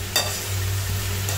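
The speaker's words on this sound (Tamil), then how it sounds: "இப்போ வெண்டைக்காயை போட்டுக்கிறேன். வதக்கிக்கலாம்." Okra sautéing in oil, a quiet steady sizzle over a low hum with one short scraping stir near the start, close and brief, no talking.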